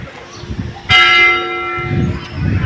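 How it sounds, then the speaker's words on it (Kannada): A school bell rings loudly outside a school, a bright sustained clang starting abruptly and fading over a second or so, with soft voices around it. "ಆ ಸಾಲೆ ಬೆಲ್ ಹೊಡಿತು."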